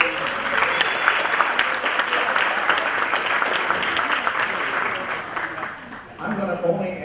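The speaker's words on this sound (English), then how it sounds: "give yourselves a round of applause" A large seated audience of about 160 people claps steadily and loudly throughout, dense applause that dips briefly near the end before swelling again.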